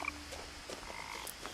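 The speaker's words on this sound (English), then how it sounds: "It's a frog." A frog croaks in the video game What Remains of Edith Finch, a few soft, short croaks over faint ambient game sound.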